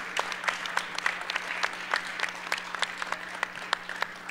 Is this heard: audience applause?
yes